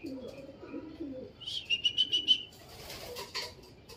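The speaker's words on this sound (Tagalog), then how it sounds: "nakabalik na yung ibon" A bird, probably a pigeon, returns close by and gives a quick run of five or six bright chirps, then a scatter of fainter rustling and calls. Low indistinct voices sound briefly at the start.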